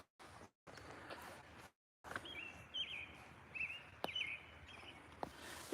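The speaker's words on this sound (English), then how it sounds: "Listen to that bird. Sounds so beautiful." A single bird sings outdoors on a walk toward the beach, its bright, chirping phrases coming in short bursts over steady background noise, fairly close but not loud.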